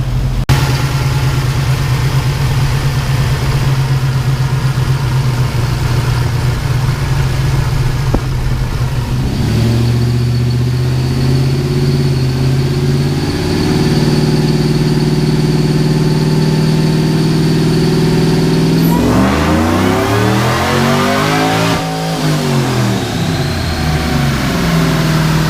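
A supercharged LSA V8 in a Chevy Tahoe runs on a dyno, loud and steady throughout, its tone stepping up in pitch in stages before a sweeping rev rises and falls near the end.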